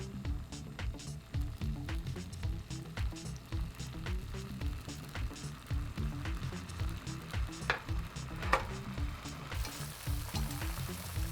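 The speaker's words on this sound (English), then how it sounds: "on a pan over high heat first, add a little bit of oil. And this is about a third cup of liquid Just Egg" Liquid Just Egg sizzling in a little oil in a pan over high heat, a close, steady frying crackle with soft stirring and squishing noises throughout.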